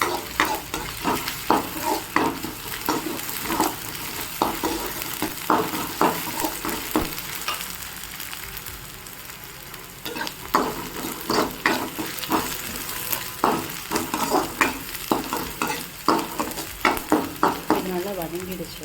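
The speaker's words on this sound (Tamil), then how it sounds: "இந்த ஸ்டேஜில் நம்ம கொஞ்சமாக இஞ்சி பூண்டு பேஸ்ட் ஆட் பண்ணிக்கலாம்." Ginger garlic paste frying with onions in a pan for egg rice, with a steady sizzle under repeated spatula scrapes and stirs that pause briefly midway and then pick up again.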